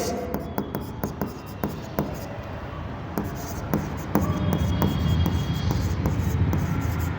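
A pen scratches across paper in a series of short, brisk strokes, close and fairly clear over a low room hum, as an accounting journal entry's narration is written out.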